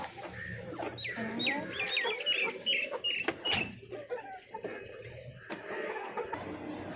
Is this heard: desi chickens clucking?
yes